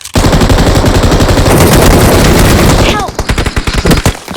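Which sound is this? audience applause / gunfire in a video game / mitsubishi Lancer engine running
gunfire in a video game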